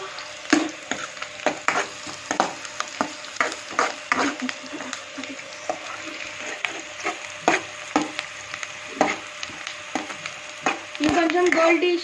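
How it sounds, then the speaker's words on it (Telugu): Onions fry in a pan on high heat for a prawn curry, a steady low sizzle broken by repeated scraping stirs and clinks of the spatula, close and fairly loud. "ఆనియన్స్ గోల్డెన్ కలర్లో వచ్చే వరకు ఫ్రై చేసుకోవాలి."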